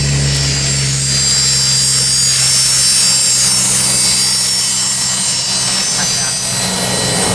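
An aircraft taking off at Palomar Airport, its engine a loud steady roar close by, with a low droning tone under faint talk.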